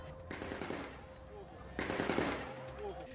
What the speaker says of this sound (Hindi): रिहायशी इलाकों में अंधाधुंध फायरिंग कर रहा है